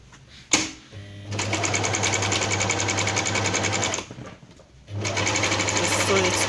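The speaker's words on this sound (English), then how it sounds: "So here I will start the sewing." A sewing machine stitches fabric strips for a scarf crown, running in two steady whirring bursts with a short pause between them, close and loud, with a voice heard at the start.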